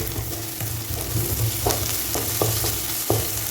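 Dried fenugreek leaves crackle in a kadai for restaurant-style kadai chicken masala, a steady close sizzle with scraping stirs and several sharp spatula knocks against the pan.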